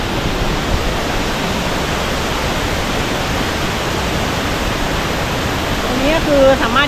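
Rushing water at Pha Charoen waterfall in Phop Phra, Tak, a steady broadband roar that fills the whole stretch without letup, with a brief voice near the end.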